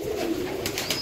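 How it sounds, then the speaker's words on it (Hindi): Pigeons coo softly and nearby, a low murmuring call over a faint background with a few light higher chirps. "देखो कबूतर"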